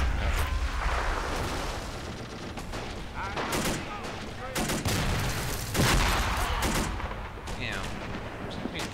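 Mortar and artillery fire in a war video game booms and cracks repeatedly amid dense, continuous battle noise, with heavy explosions and scattered gunshots layered loudly throughout the scene.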